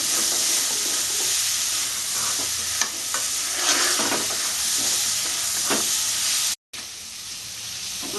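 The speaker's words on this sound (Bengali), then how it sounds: "আমার তেল ছাড়া পর্যন্ত আমি কষতে থাকবো নাহলে মশলাটা কাঁচা কাঁচা গন্ধ করবে" Spice paste for a Bengali-style crab curry sizzles loudly in hot oil, a dense continuous hiss broken by stirring scrapes, with no voices.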